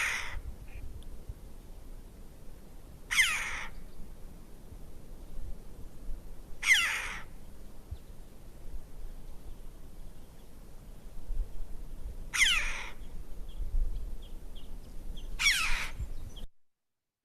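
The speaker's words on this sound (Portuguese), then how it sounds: "A gralha de bico vermelho tem um som também anasalado," A red-billed chough gives long nasal calls, five separate drawn-out cries spaced a few seconds apart over quiet background noise.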